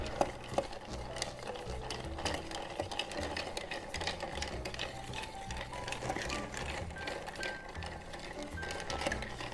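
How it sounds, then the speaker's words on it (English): A cocktail being stirred down with ice in a mixing glass, making a continuous close rattling and clinking swirl at a steady rhythm, moderately loud with no talk. "Just going to give that a really nice stir down."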